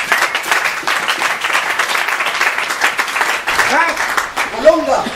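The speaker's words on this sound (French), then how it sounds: "Est-ce qu'on peut applaudir pour maman?" A church congregation applauding during a Sunday service, sustained clapping at a steady level, with voices rising over it toward the end.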